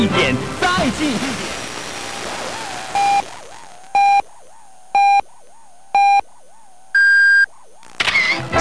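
Hourly time signal from a Chinese FM radio station, 90.8 MHz, received over long distance: a train of evenly spaced pure beeps, one per second, with a longer higher final tone, between music and talk.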